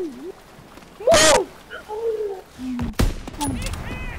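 Loud bursts of gunfire in a WW2 video game, two sharp broadband blasts and scattered shots standing out against game noise and tones, with people talking over the action.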